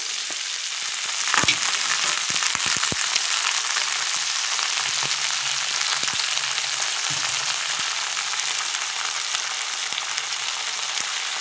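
Steady loud sizzling of potatoes frying in a pan with black cumin seeds, with occasional sharp pops and scraping clicks; no voices.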